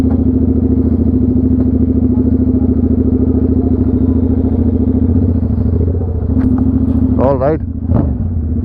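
Royal Enfield GT 650 motorcycle with a loud aftermarket exhaust idles in a deep, steady thumping rumble close by, then is blipped briefly near the end while someone speaks over it.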